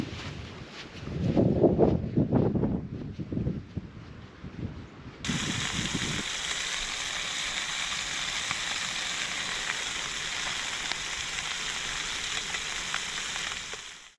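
Fish fillets, a freshly caught flathead, frying in a pan at a wilderness campsite: a steady broadband sizzle holds for most of the clip, with gusts and low rumbling handling noise early on, no talking.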